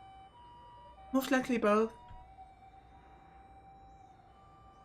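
Distant emergency sirens, from fire trucks or ambulances, hold a faint, steady wail far off in a city scene of the Chaos;Head visual novel game. A brief spoken line rises over them partway through.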